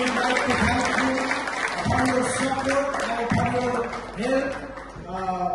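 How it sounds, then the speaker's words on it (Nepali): An audience at a youth conference claps to thank the musicians, a dense continuous round of applause heard under a loud voice speaking over it throughout. "हामी उहाँहरूलाई ताली बजाएर धन्यवाद दिन्छौँ"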